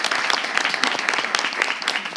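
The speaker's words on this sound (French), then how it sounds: "On les applaudit s'il vous plaît." Audience applause fills a TV show studio, steady and fairly close, a dense wash of many hands clapping with no break.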